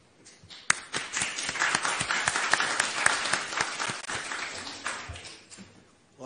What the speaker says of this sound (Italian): ha iniziato dagli applausi prima che io prendessi la parola